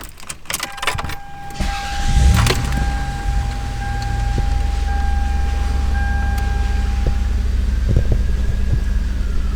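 A Lexus ES250 engine idles steadily from inside the cabin, a low continuous hum with a few clicks and rattles near the start, with no talk.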